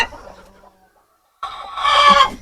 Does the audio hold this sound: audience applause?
no